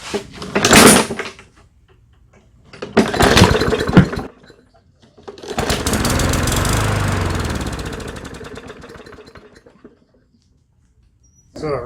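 Small lawn mower engine, which earlier had a stuck pull cord and now runs only on fuel: two short bursts as it catches, then a longer stretch of it running before it dies into silence.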